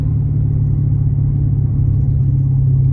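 A Mopar car fitted with the Super Track Pack runs with a steady, loud low engine rumble that holds even throughout, close by, with no clear rev swells and no talk.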